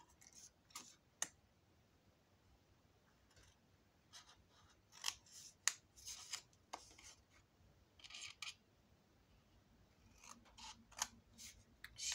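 Scissors snip through folded paper card, giving a scattered series of close, crisp little cuts with short pauses between, faint and alone in a quiet room.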